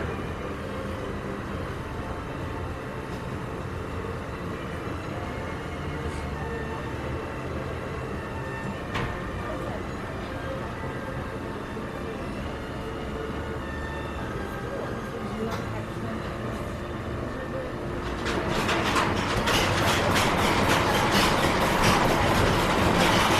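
The Diabelska Pętla roller coaster, formerly called Tornado, at Legendia rolls along its track with a continuous rumbling roar heard from the front car. The clatter grows louder and more rattling toward the end, and riders talk now and then.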